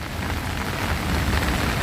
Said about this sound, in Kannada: ನೋಡಿ ಫುಲ್ಲು ಮಳೆ ಎರಡನೇ ದಿನ ಕಂಟಿನ್ಯೂ ಆಗಿ